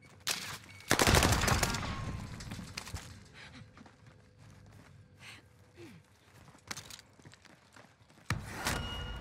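Gunfire in Call of Duty Warzone arrives as a loud opening burst, then a quieter lull, followed by sharper shots near the end over a low background of game sounds.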